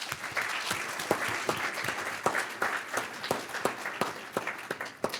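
A town hall audience applauds committee members, many hands clapping in a dense, even patter that holds steady for several seconds, moderately loud with no voices over it.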